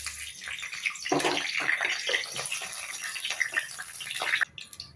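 Bay leaves dropped into hot oil in a pan, giving a steady, close crackling sizzle with small pops that run throughout and cut off abruptly near the end.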